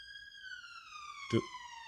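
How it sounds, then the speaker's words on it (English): A police siren wails in a long, slowly falling tone, fairly clear and steady, with a brief thump partway through. "Just got to stop and let the sirens do his thing."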